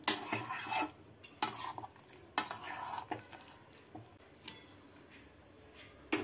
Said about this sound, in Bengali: এবারে সমস্তটাকে নাড়াচাড়া করে নেব।